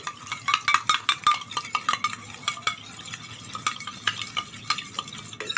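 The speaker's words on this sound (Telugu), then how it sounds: "ఒక టూ త్రీ స్పూన్స్ వేసుకొని బాగా మిక్స్ చేయండి ఇది ఒక క్రీమ్లా ఫామ్ అవుతుంది" Spoon clicks and scrapes against a small bowl as aloe vera gel and other ingredients are whisked into a homemade whitening cream, a busy run of close, bright ticks with no talk.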